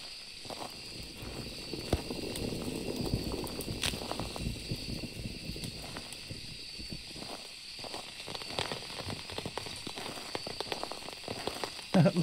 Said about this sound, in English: Listen to the rain, that's awesome.